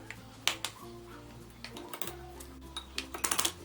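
Spoon clinking and tapping against a small bowl while cornflour is stirred into milk, a run of light irregular ticks that grows busier toward the end, close and fairly quiet.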